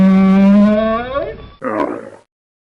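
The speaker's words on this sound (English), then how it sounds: "camel," A camel lets out a long, deep, droning groan that rises and wavers, then breaks into a rougher gurgling grunt before stopping, close and loud.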